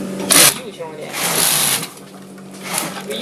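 Curling machines running in a Guangzhou wig factory, a steady mechanical whir and clatter with bright bursts of noise, heard under people talking nearby.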